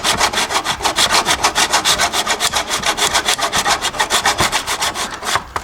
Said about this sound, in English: then just using a 12-inch hacksaw. And then we just manually cut each piece